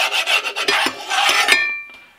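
A wire mesh strainer is rubbed hard across a Blue Diamond nonstick pan, giving a quick series of harsh, close rasping scrapes that fade out at the end.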